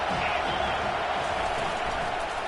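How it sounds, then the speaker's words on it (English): A video game college football stadium crowd roars steadily on a third-down defensive stand, a dense, continuous wash of cheering noise with no break. "Decibels rising as the crowd gets behind this defense on third down."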